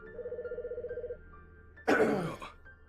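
A video game telephone rings in a rapid warbling burst that stops after about a second, followed by a short, loud, noisy burst like a cough.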